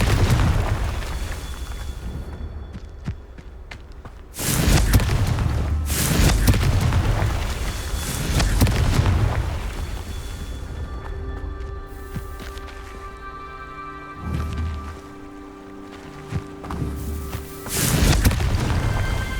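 Confringo fire spell explosions in the Hogwarts Legacy video game: several heavy booming blasts with rumbling low-end tails, separated by quieter stretches of ambient game sound and tonal music, loud and close.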